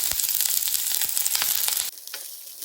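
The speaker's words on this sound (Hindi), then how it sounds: "तेल गर्म होने के बाद इसमें डालेंगे लहसुन," Garlic and onion hit hot oil and set off a loud, close sizzle with crackling spits. After a couple of seconds it drops abruptly to a quieter frying hiss.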